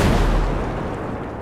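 A heavy, loud blast of gunfire in Ghost Recon: Breakpoint, a deep booming crack up close that rolls off into a brief fading rumble with no talking.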